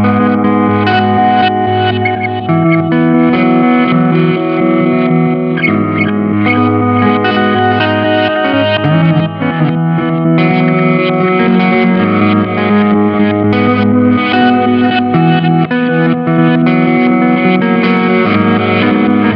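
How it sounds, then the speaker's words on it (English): A Sonicake effects pedal in reverse delay mode plays a guitar signal back backwards, giving a dense, swelling wash of sustained reversed notes that runs loud and continuous for the whole stretch, with no talking. "the last mode is reverse, and it takes our delayed signal and plays it back in reverse"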